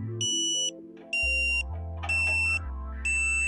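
A satellite dish pointing alignment tone alternates between two pitches in a steady siren-like pattern, loud and close, with high piercing beeps repeating about once a second.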